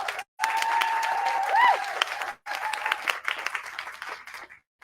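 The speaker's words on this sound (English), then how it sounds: "Let's give him a round of applause." An audience applauds at a Michigan connected corridor announcement, sustained mid-distance clapping with brief gaps and a few higher tones, fading out near the end.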